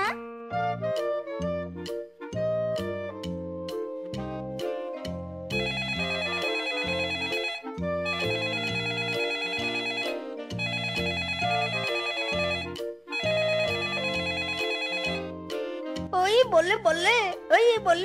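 A cartoon phone ringtone plays as a bright, repeating electronic melody in several evenly spaced bursts, loud and close, ending in a warbling tone.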